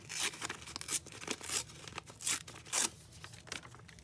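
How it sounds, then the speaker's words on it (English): Paper being torn by hand for a collage at a cluttered desk, a series of close, crisp ripping bursts in irregular rhythm with crinkling between them. "Let's just tear it."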